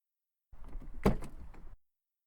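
A car door is opened and shut outside an airport, one sharp latch-and-slam thump landing in the middle of about a second of nearby handling noise, close and fairly loud with no talking.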